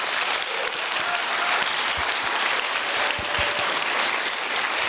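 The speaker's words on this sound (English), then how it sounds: "give them a round of applause" A crowd applauds steadily at the NordicFuzzCon 2024 opening ceremony, dense clapping holding at an even level throughout.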